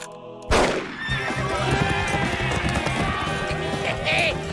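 A horse whinnies amid loud, continuous outdoor commotion in an animated Daltons cartoon episode, with running hoofbeats and a busy, noisy background throughout.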